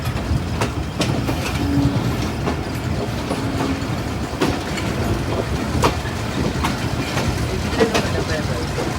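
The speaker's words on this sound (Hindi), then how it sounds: "और ये कल खाती हुई हमारी 148 डाउन मियाँ वाली एक्सप्रेस।" The 148 Down Mianwali Express runs through Malakwal Junction's diamond crossing, its wheels clacking in rhythmic bursts over a steady, close rolling rumble.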